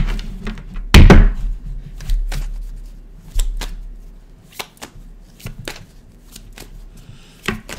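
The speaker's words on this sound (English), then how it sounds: "One more shuffle." Tarot cards being shuffled and tapped on a surface, a loud thump near the start followed by scattered soft flicks and knocks, close by and without speech.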